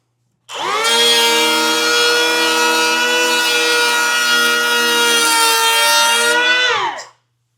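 A DeWalt 20V MAX cordless planer cuts across a wooden board in one steady, loud pass of about six seconds, its high whine holding even before it spins down.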